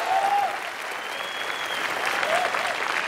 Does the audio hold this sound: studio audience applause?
yes